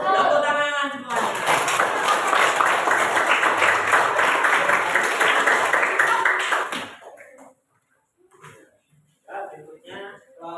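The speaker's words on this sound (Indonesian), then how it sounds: "Tepuk tangan semuanya" An audience in a classroom-style group session bursts into hand clapping, a dense burst of applause for several seconds that cuts off abruptly, followed by quiet moments with brief voices speaking.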